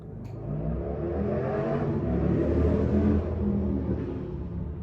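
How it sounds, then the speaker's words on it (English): Motorcycles revving outside, a loud sustained engine rumble that swells and holds for a few seconds before easing slightly. "the motorcycle boys are back at it"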